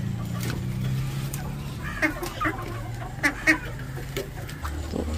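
Aseel roosters fighting cluck and squawk in short, sharp bursts over a low background drone, sounding agitated and scuffling.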